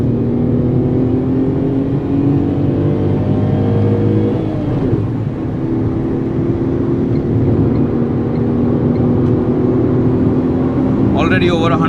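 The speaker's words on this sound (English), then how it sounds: "Listen to the engine." Tata Tiago iCNG hatchback running on compressed natural gas, its engine droning loud and steady under hard acceleration, pitch climbing through the gears with a brief dip around a shift, while occasional talk sits over the engine noise.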